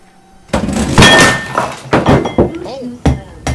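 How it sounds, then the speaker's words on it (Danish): An electric sit-stand desk breaks with a sudden loud thunk and crash, followed by a few scattered knocks and clatters nearby as voices react. "det var mit hævesækkebord, der gik i stykker"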